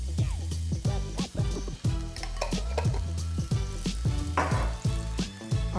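Garlic fries in hot oil for fried rice, a sizzling hiss broken by frequent metallic clanks and scrapes of a spatula against the pan.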